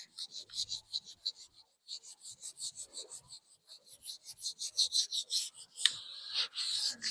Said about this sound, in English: We're just about done sanding all of our prep work.